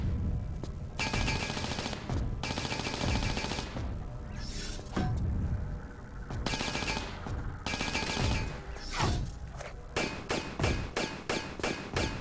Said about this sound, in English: Love that sound of bullets bouncing off its armor.